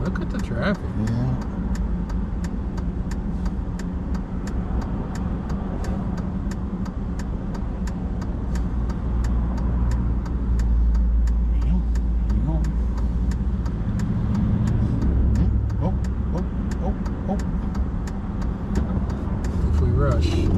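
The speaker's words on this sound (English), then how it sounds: "Look at the traffic." Cars moving through road traffic in Minot, North Dakota, heard from inside a vehicle as a continuous close engine and tyre drone with passing swells. Quiet voices talk over it.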